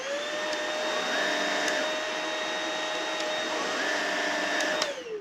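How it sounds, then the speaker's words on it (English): A Shark Rocket stick vacuum whirs steadily at high speed, a loud sustained motor whine with a bright tonal hum, running alone throughout. "Here's the vacuum on high speed, mainly for regular pile carpets,"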